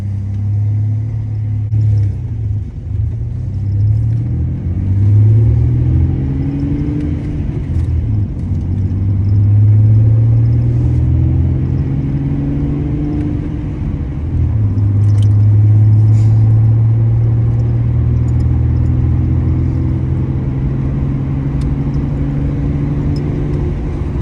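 A 2000 Ford Ranger 3.0L pickup's Dynomax Ultra-Flo stainless cat-back exhaust rumbles steadily as it accelerates through several pulls, the low engine tone rising and dropping between gear changes, heard from inside the cab.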